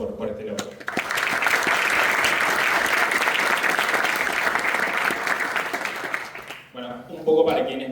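A live audience at a startup and investment talk applauds the team, a sustained, loud wave of clapping lasting several seconds, with a speaking voice before it and after it.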